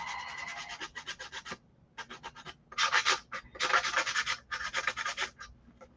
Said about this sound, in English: Sanding it a little bit does make a big difference.